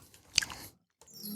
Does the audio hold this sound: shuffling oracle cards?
no